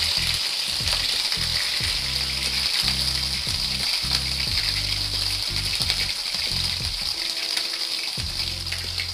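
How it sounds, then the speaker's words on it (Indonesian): Spice paste sautéing in a small amount of oil for Indonesian chicken semur, a loud, continuous close-up sizzle with crackling bursts and occasional stirring. "Kemudian kita tumis dulu ya bumbu yang tadi ini."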